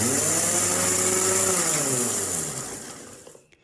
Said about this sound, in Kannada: ಒಂದು ಸರಿ ಮಿಕ್ಸಿಯಲ್ಲಿ ಪುಡಿ ಮಾಡ್ಕೊಳ್ಳಿ